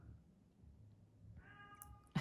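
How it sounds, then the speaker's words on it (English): A cat carrying a toy in her mouth lets out a short, muffled meow-like call near the end of an otherwise quiet indoor moment. "one of our cats is carrying a toy around in her mouth, and you can probably hear her making some noises in the background"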